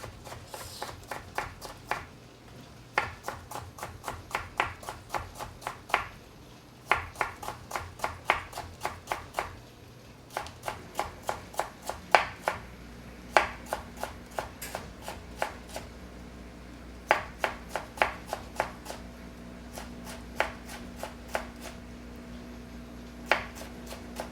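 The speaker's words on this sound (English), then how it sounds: "this is more like a French style or Western style cutting knife, chef knife" Chef knife chopping cucumber on a cutting board in repeated bursts of crisp, fairly even taps, up close and unhurried, with short pauses between runs and no talking.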